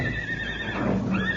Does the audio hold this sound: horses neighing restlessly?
yes